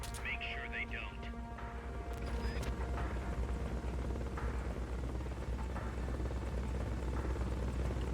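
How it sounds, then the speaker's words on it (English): Steady rotor drone of a helicopter in the video game Metal Gear Solid Peace Walker, a continuous low rumble and thrum underneath game voices at the start. "16 troops in that chopper?"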